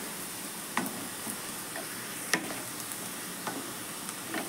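Prawns fry in a pan for a traditional Indian dish, with a soft, low sizzle and a few sharp ticks and clicks as they are stirred.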